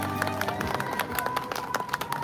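A crowd at a union rally claps rhythmically to welcome a speaker, with sharp claps in a steady beat under shouting and talk.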